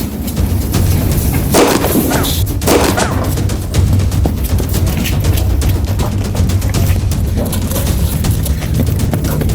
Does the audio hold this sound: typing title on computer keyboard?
no